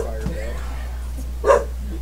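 A person vocally imitates a hook horror, a fantasy monster that yips like a terrified chihuahua, with short nasal barking bursts: a faint yip early on and a louder one near the end, over low constant background hum.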